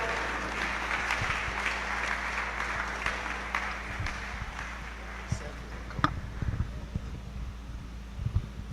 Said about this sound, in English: A round of applause, ladies and gentlemen, as it comes up. Keep clapping,